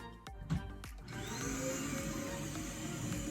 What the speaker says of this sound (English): We're gonna take a break until she's done vacuuming.